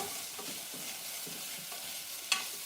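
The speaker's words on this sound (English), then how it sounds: "while my onions are cooking" Onions sweat in a hot pan for carne asada smothered fries, giving a steady close sizzle with soft stirring scrapes and one sharp clink of a utensil near the end.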